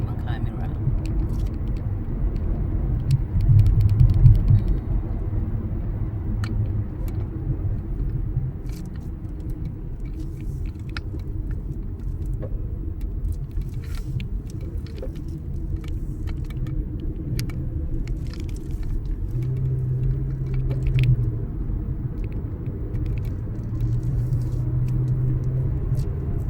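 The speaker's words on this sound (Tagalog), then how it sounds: "Naglalakihan pong mga sasakyan." Large vehicles passing on a road, heard as a steady low rumble with a few louder swells as they go by, continuous throughout with faint background activity.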